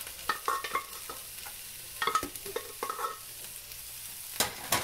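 Chickpeas fry in a hot pan with a moderate sizzle. Clusters of quick scraping and tapping from stirring come in bursts, and a louder scrape sounds near the end.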